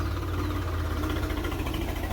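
A tractor engine runs at a rural road-building site, a steady low rumbling drone with constant vibration, heard close up and without any talking.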